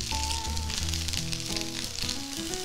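Courgettes fry in a little oil in a hot pan, giving a loud, continuous close sizzle with steady hiss and crackle throughout and no talking.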